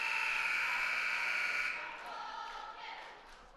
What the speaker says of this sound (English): Buzzer sounds and the game's over.